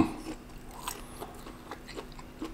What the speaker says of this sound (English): The outside skin is a bit crunchy.